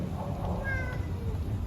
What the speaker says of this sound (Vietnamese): nè mèo